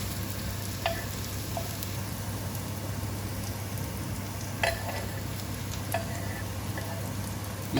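Spring onions sizzle steadily in a wok, a dense close hiss with a low hum underneath and a few sharp clicks and scrapes from stirring.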